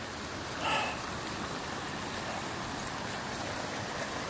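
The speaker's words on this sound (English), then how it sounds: "Look at that hail." Steady rain and hail pour down on a campsite, a dense, even hiss of drops hitting surfaces throughout, with one brief brighter clatter early on and no voices.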